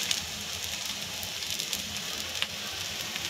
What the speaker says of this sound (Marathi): शिजण्याचा उत्तम आवाज येतोय मंडळी.